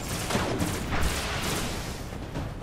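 Steady gunfire and explosions from the video game Destiny, a dense continuous barrage of shots that fills the whole stretch with no speech over it.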